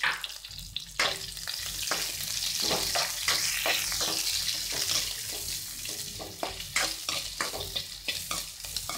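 Onions crackle and sizzle steadily in coconut oil in a pan, with repeated scraping strokes of a spoon stirring through them.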